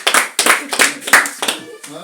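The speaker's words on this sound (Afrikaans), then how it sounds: "Gee die Here aan 'n klap." A church congregation clapping for the Lord, loud, close bursts of applause in uneven waves over about two seconds, with voices mixed in.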